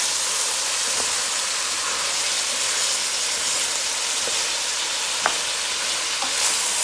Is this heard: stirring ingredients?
yes